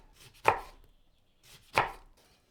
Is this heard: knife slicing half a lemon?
yes